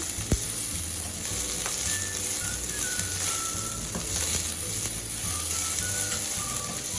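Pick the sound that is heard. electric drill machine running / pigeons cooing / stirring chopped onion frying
stirring chopped onion frying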